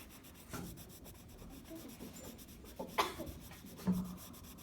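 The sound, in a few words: pencil strokes on paper while sketching fur texture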